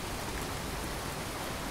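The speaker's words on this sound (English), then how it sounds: "It starts to rain." Steady rain falls in the video game Fallout 4 as the weather turns, a soft, even hiss of drops on the ground with no speech over it.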